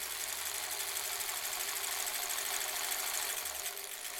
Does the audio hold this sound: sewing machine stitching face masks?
yes